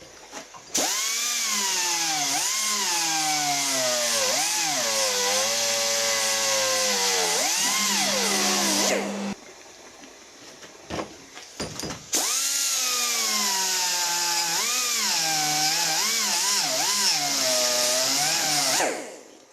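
A carbide burr whines in a high, steady grind against an aluminium casting, its pitch sliding up and down under load, stopping briefly with a few clicks before the tool starts again and grinds on.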